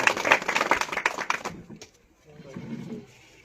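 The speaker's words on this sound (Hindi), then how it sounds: "एक बार जोरदार तालियों स्वागत कीजिए" A short burst of clapping from an audience welcoming a new district president at a political gathering, crisp and close for about a second and a half, then fading into quiet murmuring.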